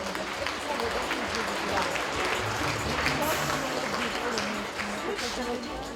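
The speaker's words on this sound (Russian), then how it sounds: "Еще раз бурные аплодисменты." Sustained applause from an audience honoring award winners at a concert event, dense, even clapping that stays strong throughout, with a voice speaking over it.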